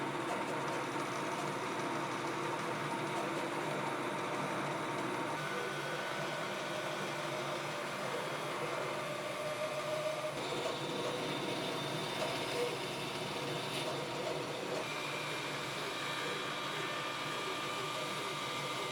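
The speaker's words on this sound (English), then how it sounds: "Now we'll go do the rough cut on the bandsaw." A bandsaw rough-cuts a bass guitar neck blank with a template taped on, for a burl-top bass build. A faint, continuous whirring drone holds steady throughout with no breaks.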